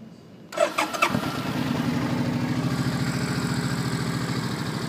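A 2007 Suzuki Boulevard C50T VL800 cruiser motorcycle with a stock engine cranks with a few quick starter bursts, catches, and settles into a steady, even idle rumble, loud and close.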